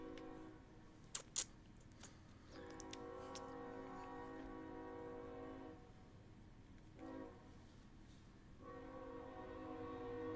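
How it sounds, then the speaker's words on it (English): A nearby train sounds long, sustained horn blasts over a low rumble, with a few sharp clicks and a short pause between the horn calls. "Dude, that train is so loud."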